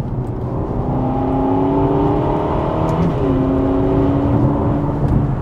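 A Ferrari GTC4 Lusso with a 3.9-litre twin-turbo engine holds a steady, muffled hum that rises and falls slightly, heard alone without talk.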